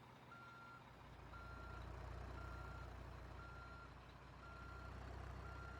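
A truck's reversing alarm in Drive Simulator 2020, steady evenly spaced beeps repeating about once a second over a low rumbling engine, clear but moderately quiet.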